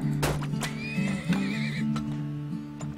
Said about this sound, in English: Come on, horses. Move.